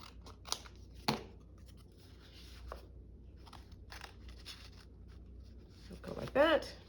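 Scissors cut paper while a junk journal is made, several crisp separate snips and rustles spread across a quiet tabletop, with a brief squeak near the end.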